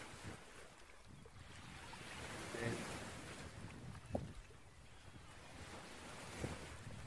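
Steady, soft wash of surf rolling onto a small sandy beach near Gunnamatta Bay, Sydney, with a faint gusty wind hiss over the mic and a couple of small splashes.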